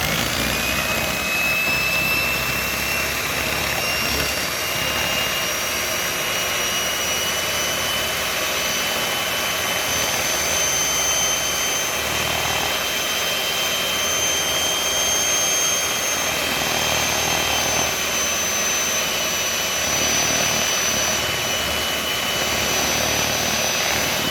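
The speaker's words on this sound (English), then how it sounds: "Those egg whites that we separated earlier, we're going to beat them with our mixer." An electric hand mixer whirs steadily and loudly as it beats egg whites toward stiff peaks, a constant, unbroken motor drone throughout.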